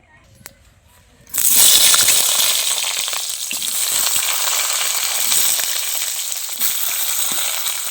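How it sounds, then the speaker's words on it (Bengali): Eggplant drops into hot oil in a pan and erupts into a loud, sudden sizzle after a quiet second, then keeps frying in a steady, bright crackling hiss that eases slightly but continues to the end. "প্রথমে ভেজে নিচ্ছি বেগুনটা"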